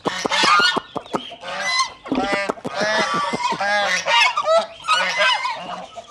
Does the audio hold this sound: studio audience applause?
no